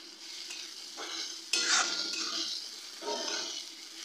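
Ground spices and a whole garlic bulb are fried in a pan for a Bihari-style egg curry, a moderate sizzle with scraping stirs that swell in waves and a sharp clink partway through.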